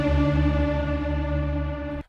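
A raw, unprocessed trailer sting for an epic hybrid trailer track sustains as a very low, heavy harmonic drone, loud and steady before cutting off abruptly.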